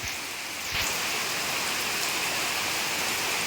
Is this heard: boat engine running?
no